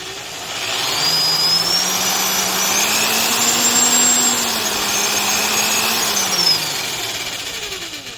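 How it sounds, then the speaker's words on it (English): A Harbor Freight half-inch corded drill runs up after its gearbox has been greased, giving a steady motor whine that rises slightly in pitch and holds for several seconds before winding down, alone and fairly loud. "Let's hear this initial run. It's got to kind of mush the grease around."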